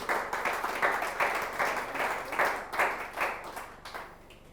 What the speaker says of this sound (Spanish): Un aplauso al Señor, aleluya.